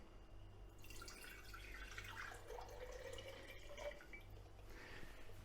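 Filtered water pours into a mason jar in a kitchen, a soft trickling and splashing stream that is faint and steady, with a low hum beneath and no talk.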